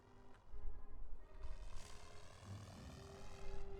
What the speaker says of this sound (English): Wait, is that a Fokker? Yeah, it's a Fokker D7.